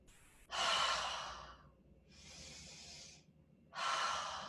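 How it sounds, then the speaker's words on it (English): Deep yogic breathing sits close to the microphone: a long, strong exhale, then a softer breath, then another forceful exhale, each a broad airy rush separated by brief quiet. "Deep breath in."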